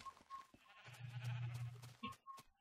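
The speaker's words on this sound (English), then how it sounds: "Look at all the blue and yellow sheep." Several Minecraft sheep bleat in a quiet, faint game scene, with a drawn-out low bleat in the middle and brief higher sounds around it, and no one talking.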